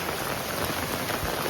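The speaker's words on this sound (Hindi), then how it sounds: "बारिश भाई काफ़ी तेज़ है" Heavy rain pours down while someone walks along under an umbrella, a dense, loud, unbroken hiss of drops hitting the canopy and ground close by, with no talking.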